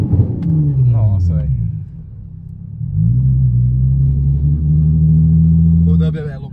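Onboard a Nissan 350Z: a loud, deep engine roar builds and holds as the car accelerates hard, dipping briefly before surging again, with someone talking over it at the start and end.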